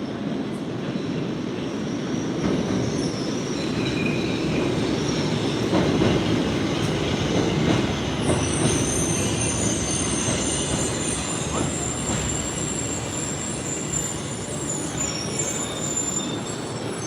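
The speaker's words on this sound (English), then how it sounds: "All right, here it comes." A Tokyo Metro Ginza Line subway train pulls into a station, a steady rumble of wheels and carriages with rising high-pitched wheel squeal toward the end as it slows, loud and close.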